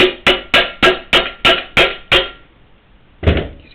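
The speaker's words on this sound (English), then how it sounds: "And give it a few taps with a hammer." Eight sharp, evenly spaced hammer taps ring out close and loud against the main pivot bearing of a Kona bike frame, followed by a short pause and one more faint knock.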